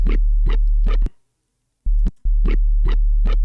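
A deep, pulsing synth bass plays a repeating pattern of rhythmic stabs, its tone sweeping and wobbling, with a short silent break in the middle.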